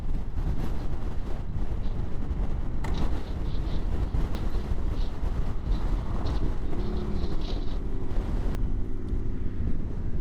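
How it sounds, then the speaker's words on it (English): Strong, steady wind buffets the microphone in Patagonia's Torres del Paine, a dense low roar that continues unbroken, with brief faint voices in the background. "That wind was a joke. That was something else."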